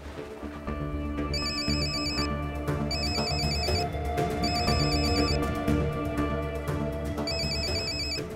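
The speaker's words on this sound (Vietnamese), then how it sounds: "À, chuông điện thoại reo kìa." A telephone rings in repeated bursts of electronic ringtone tones over steady background music in an Indian drama series scene, loud and continuous with no talk.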